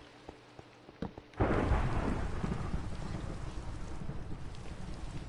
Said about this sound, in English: Oh no, we can't go, it's raining.